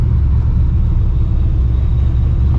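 Deep, steady idle rumble from a cammed, ProCharged 650 HP 1999 Ford Mustang GT, heavy low-end throb with a slight lope, close and loud and continuous with no talking.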